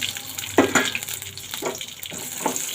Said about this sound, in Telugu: కొద్దిగా ఆయిల్ వేసుకొని పచ్చిమిరపకాయలు వేసుకొని వేసుకోవాలి.